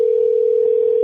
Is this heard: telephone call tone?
yes